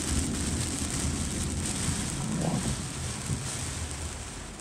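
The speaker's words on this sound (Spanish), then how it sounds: "Ya está lloviendo fuerte." Heavy rain pours down in Miami, Florida as a dense, continuous hiss of water hitting surfaces, steady and fairly loud throughout, with a faint low rumble partway through and no talking.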